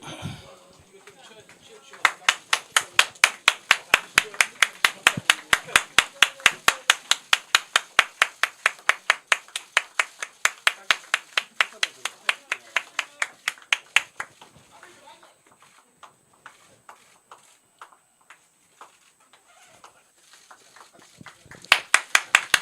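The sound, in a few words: applause from party members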